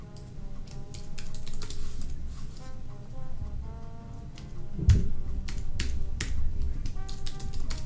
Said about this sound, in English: I could just start typing in items if I wanted to and just manually create a list by typing in new stuff here.